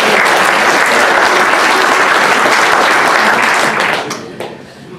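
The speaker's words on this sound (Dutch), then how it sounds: "Ze hebben wel een applaus verdiend." Loud, dense applause from an audience at a language event in Boxmeer holds steady for about four seconds, then quickly fades to a few scattered claps.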